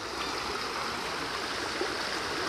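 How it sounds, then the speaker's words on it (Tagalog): Clean running water in a riverside stream, a steady continuous rush and gurgle with no one speaking. "Running water siya, malinis siya. Tuloy-tuloy yung tubig niya."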